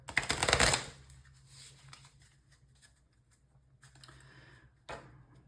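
A deck of treasure cards being shuffled during a tabletop fantasy role-playing game, a loud riffling burst at the start followed by quieter scattered card handling and a brief snap near the end.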